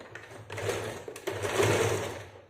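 A sewing machine stitches a kameez in close, steady whirring runs, briefly easing near half a second and again just past one second before running on at full speed.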